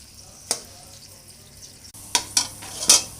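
Food frying gently in a pan for spaghetti, a low sizzle broken by a few sharp spoon-on-pan clinks and scrapes, with the last stretch busier.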